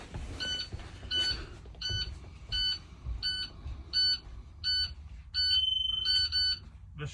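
A school bus child-check alarm buzzer beeps in a regular series of short, bright pulses, about a dozen in a row, close and fairly loud.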